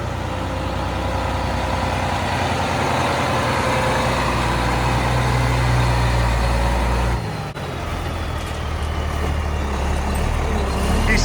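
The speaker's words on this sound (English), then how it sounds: "You can hear that turbo whistle, huh?" Loud straight-piped diesel truck engine with no muffler, a deep rumbling drone with a faint turbo whistle riding on top, holding steady and then briefly dipping before resuming.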